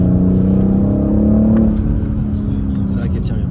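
BMW M440i engine pulling hard under acceleration, a steady loud drone rising in pitch for about a second and a half before easing off, heard from inside the car with people talking over it.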